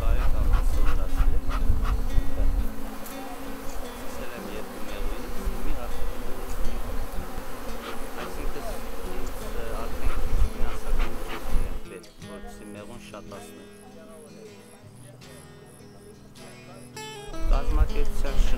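Honeybees at a small apiary in Nver, Armenia, buzz in a dense, continuous drone close by. People talk over the swarm, and the buzzing thins briefly before returning.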